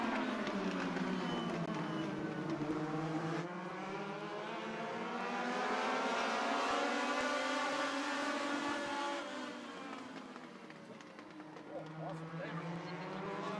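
Race cars roar around Charlotte Speedway during a summer race, their engines rising and falling as they sweep past, with an announcer calling the action over the noise.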